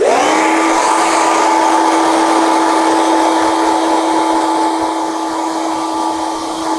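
A hair dryer blows cold air over a fresh short back and sides scissor cut with a textured fringe, a loud steady whir with a high tonal whine that holds unbroken throughout, with no talking.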